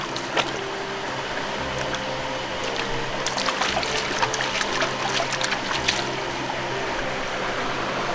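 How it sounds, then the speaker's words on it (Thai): Natural spring water trickles out of the ground at a wooded spot, a soft continuous flow with scattered small splashes and drips, close by and fairly quiet. "มีน้ำไหลออกมาจากตรงนี้นะครับ"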